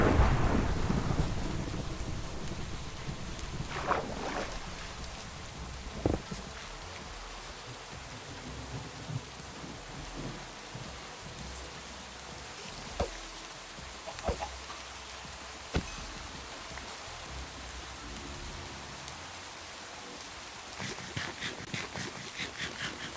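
Steady rain falls in a Minecraft world running the Minecolonies mod, with rolling thunder and several sharp cracks scattered through a continuous hiss.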